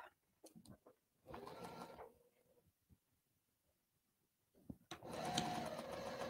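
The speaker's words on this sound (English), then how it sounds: "I'm just going to start about an inch down from the top. and sew the last side" Domestic sewing machine stitching the last side seam of a baby-sized fabric patchwork pumpkin with a short tight stitch, heard in two runs: a brief burst of whirring stitches, a quiet pause with small handling clicks, then a longer steady run.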